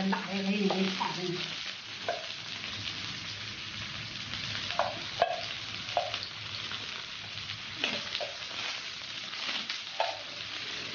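A chili and noodle mixture fries in a pan over a moderate flame in Anhui, giving a steady close sizzle with scraping stirs throughout and faint voices now and then.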